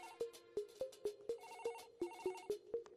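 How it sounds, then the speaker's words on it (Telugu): Electronic telephone ringtone sounding alone in a repeating rhythmic pattern of short pulsed tones, about a dozen beats over three seconds, clear and near in a comedy film scene. "ఫోన్ మోగుతుంటే ఎవరు తీరేంట్రా?"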